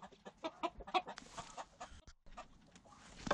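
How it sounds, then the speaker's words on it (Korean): Chickens in a coop cluck and murmur in a steady run of short, close calls, with scratchy movement and soft rustling between them. "캔디가 받아들여주지 않자 제리는 자꾸만 닭장 밖으로 나가겠다고 문을 열어달라고 한다"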